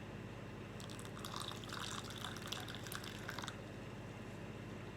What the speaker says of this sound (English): now I'm going to go ahead and I'm going to pour me up some Dandelion coffee